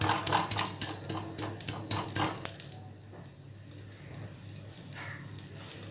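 A mudakathan dosa, made from balloon vine leaves and rice, sizzles on a hot pan as it is flipped, with sharp scraping and clattering spatula strokes at first and then a steady, quieter frying hiss.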